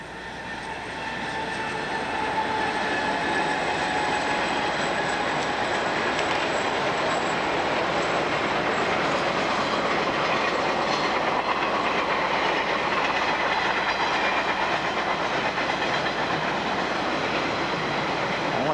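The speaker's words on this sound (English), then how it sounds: "this is the first Iron Highway train on video heading towards Howell" An Iron Highway freight train of seven cars carrying seven trailers rolls past at Burns Harbor, Indiana, on the CSX Plymouth Subdivision in 1996, a loud, steady rumble with wheel clatter and faint squeal that builds and holds.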